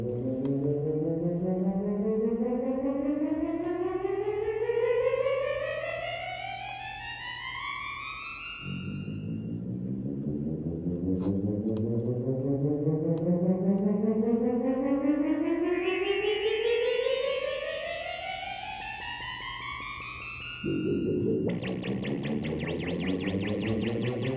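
An Audiothingies P6 synthesizer under repair plays through a speaker, producing long rising pitch sweeps that repeat in slow waves, with a buzzy, distorted, chorus-like tone and no voices.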